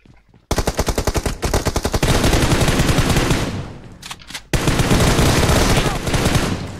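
Rapid automatic gunfire from a video game peek-and-fire move rattles out in fast, evenly spaced shots. A brief pause follows, then a second sustained, loud volley, heard up close with no talk.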